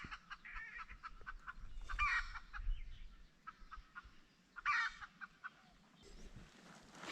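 Jungle fowl call in rainy, foggy countryside, with two distinct crowing bursts and scattered faint clucks over soft background noise, quiet and somewhat distant, with no voices.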